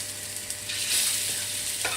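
Falafel made with fresh chickpeas sizzles steadily in hot oil in a pan, a bright crackling hiss with a few soft scrapes and stirs.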